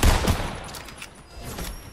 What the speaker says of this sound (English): Gunshots to right.